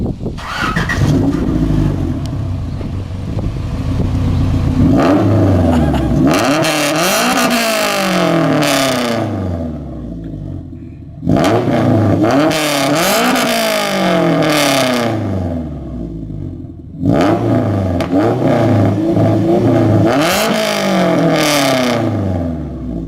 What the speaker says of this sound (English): We're going to start it up for you so that you can hear it rev.